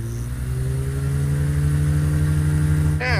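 A Rotax 582 aircraft engine drives a three-blade propeller with a loud, steady drone and buzzing harmonics, holding constant before a brief change near the end.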